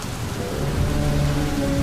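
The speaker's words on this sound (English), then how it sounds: "a great storm was raging outside" A storm of steady rain pouring outside, a dense, constant hiss with a low rumble of thunder beneath it and some faint tonal hum, no voices.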